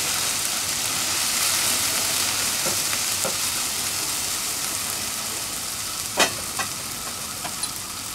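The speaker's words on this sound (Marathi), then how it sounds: "लाल तिखट 1 चमचा, परतून घेऊया।" Red chili powder frying in a pan with spices for a drumstick amti: a steady, close hiss of sizzling oil runs throughout, with a few faint clicks of stirring.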